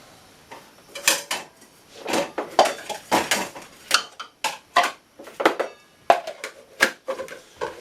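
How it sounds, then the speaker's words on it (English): Bowls clattering as they are stacked away in a cabinet of an old off-grid log cabin, followed by clunks of the door shutting against a magnet latch, a series of close, sharp knocks and rattles. "These bowls get stored way in the back here. This up and got a little magnet, closed it."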